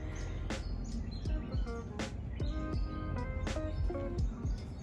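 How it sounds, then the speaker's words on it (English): Birds chirp and tweet repeatedly in a garden on a quiet morning, several short bright calls spread throughout at moderate distance, with a soft breeze hum underneath and no talking. "The birds are chirping."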